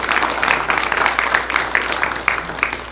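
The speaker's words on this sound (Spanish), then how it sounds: "Dele un aplauso al Señor" Dense, steady applause from a church congregation clapping for the Lord, a loud continuous patter of many hands filling the room.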